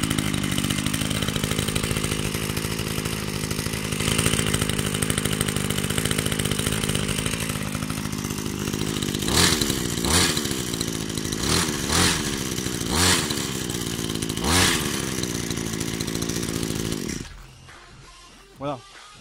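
A new French 119-euro brushcutter runs bladeless, its small two-stroke engine buzzing loudly and steadily, then revving in several sharp bursts before cutting off abruptly near the end.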